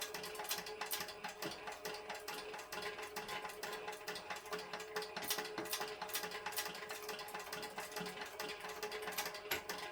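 A sewing machine back-stitches fabric for a homemade book sleeve, giving a steady, rapid mechanical clatter that runs without pause at close range with no talking.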